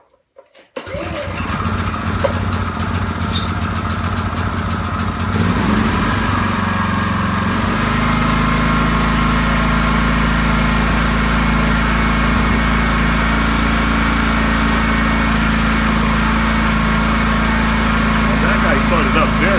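A portable gasoline generator with the choke set is cranked and fires up within a second or two, then settles into a loud, steady engine drone that runs on with no talking.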